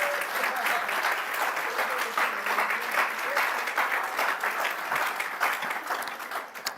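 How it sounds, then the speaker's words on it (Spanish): A church congregation claps at length during a sermon, a dense, steady wash of applause from many hands that fills the room and fades slightly near the end. "Denle un aplauso al Señor."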